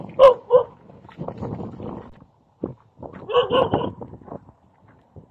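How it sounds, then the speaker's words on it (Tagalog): Several dogs bark in short bursts, a couple of sharp barks at the start and another cluster later, with people talking over and between them, at a bypass road construction site with bore pile pipes in Pampanga, Philippines. "Doon may aso, daming aso."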